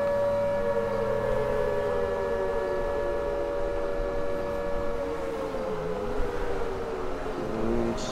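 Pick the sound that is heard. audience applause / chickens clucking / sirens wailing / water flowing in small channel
sirens wailing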